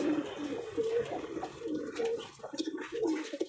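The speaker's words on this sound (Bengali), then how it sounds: "হ্যাঁ, মাশাআল্লাহ সুন্দর একটা কবুতর।" A large pigeon coos over and over in soft, rolling phrases, a fairly quiet but continuous murmur close by.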